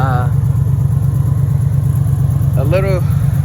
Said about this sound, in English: I'm gonna go ahead and drive the car for a little bit.